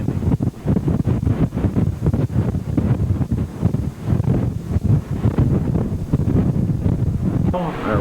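Strong wind buffets the microphone continuously on a cool, blustery day in Alaska, a rough gusty roar that rises and falls without pause.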